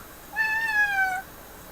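Single clear cat meow, close and moderately loud, a drawn-out tonal call lasting under a second with quiet room tone before and after.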